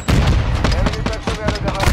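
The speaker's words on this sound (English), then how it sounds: "Oh, that's a turret." Rapid turret gunfire in Call of Duty: Modern Warfare II, a dense loud barrage of overlapping shots and booms that keeps going for the whole stretch without letting up.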